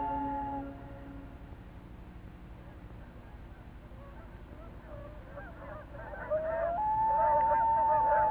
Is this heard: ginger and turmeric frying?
no